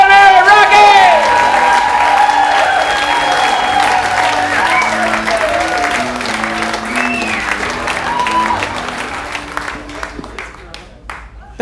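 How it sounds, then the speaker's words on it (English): A comedy club audience applauds and cheers as a comedian takes the stage, loud sustained clapping that slowly thins out, with voices and a host talking over it. "Ladies and gentlemen, a big round of applause for Rocky Mangiarano!"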